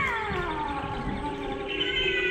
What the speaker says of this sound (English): Oh, there goes the cat.